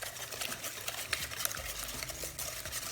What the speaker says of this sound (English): then we're gonna whisk this together